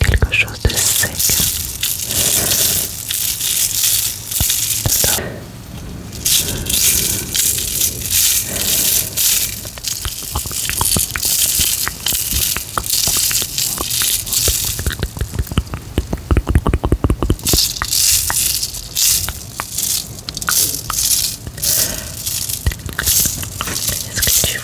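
Dry, crunchy squishy toy filled with small beads being squeezed and crinkled close to the microphone in a French whispered ASMR session, a long dense stream of crackling and squishing with soft whispering over it.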